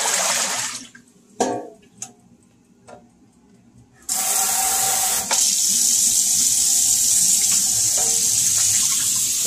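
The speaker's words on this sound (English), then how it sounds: "we're going to let this water run until it runs clear" A faucet gushes into a sink, starting and stopping with a few clunks before running steadily and loudly as a bright hiss of water.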